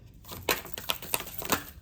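Quick crisp riffling and snapping of cards being shuffled, a few short bursts close by with no talking.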